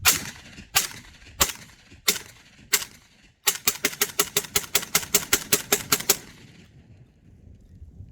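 A Fostech Origin 12 short-barreled shotgun with a SilencerCO Salvo suppressor fires five spaced, suppressed shots, then a rapid string of about a dozen more in quick succession, loud and close, before falling quiet.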